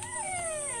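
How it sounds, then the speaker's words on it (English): A four-month-old Belgian Malinois puppy gives a short, thin, whining vocalization that slides downward in pitch, heard faintly and alone. "Bark na Axilia, bark"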